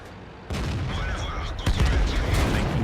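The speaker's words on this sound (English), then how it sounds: "Thank you very much, Artillery, for hitting him." Artillery shells strike a tank in the World of Tanks video game, a sharp boom landing about halfway through over steady battle rumble, with a second heavier impact later.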